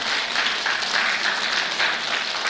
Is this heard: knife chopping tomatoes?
no